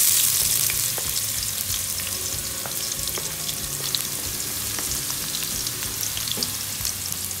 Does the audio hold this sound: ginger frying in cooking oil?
yes